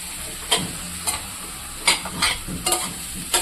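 Pieces of brinjal fry in a pan for a kathirikai gravy, a close, steady sizzle broken by repeated scraping stirs at an uneven pace, with no voices.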